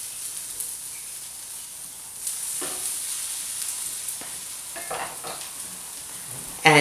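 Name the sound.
stirring frittata with feta in a pan with a wooden spoon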